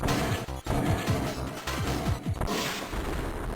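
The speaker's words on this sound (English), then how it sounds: "the ceiling comes down on our heads" A ceiling collapses in the Metroid Fusion video game, heard as a dense run of rumbling crashes and repeated impact thuds layered over game effects, loud and continuous for a few seconds.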